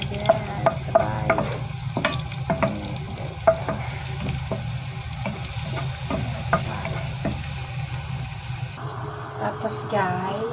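Garlic and onion sauté in a generous amount of oil for fish binagoongan, with a soft steady sizzle under repeated sharp clinks of a utensil stirring against the pan.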